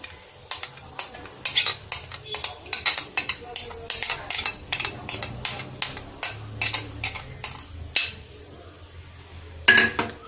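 A spoon scrapes and clinks rhythmically against a bowl, repeated quick strokes of stirring curd into fried okra, a thick mixture, close and fairly loud.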